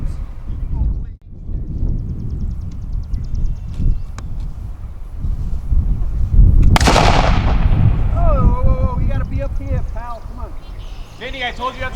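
A cannon fires once during a historical village raid reenactment at Old Bethpage Village, a single loud outdoor boom partway through, with people shouting and talking before and after it.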